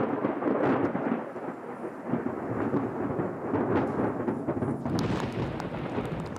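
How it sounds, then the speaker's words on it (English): Thunderstorm building outside as scientists launch weather balloons: deep, rolling thunder rumbles continuously over steady rain and gusting wind, loud and close throughout with no voices. "Outside, the storm cell is getting stronger."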